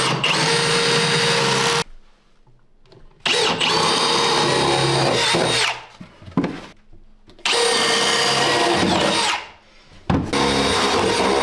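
A power drill driving screws to mount electrical outlet boxes, loud and close, running in long sustained whirring bursts separated by brief pauses and a short stop-start trigger pull.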